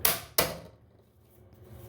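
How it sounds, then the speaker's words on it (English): Two sharp hammer strikes in quick succession, tapping snap-on wings of a laundry box into place, close and loud, followed by quiet ringing and faint background noise. "And then take a hammer."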